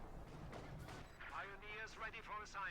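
Mortar and artillery shells firing and exploding in Company of Heroes 2, a real-time strategy game with Wehrmacht against Soviet forces, as dull booms and blasts rolling under a caster's continuous commentary.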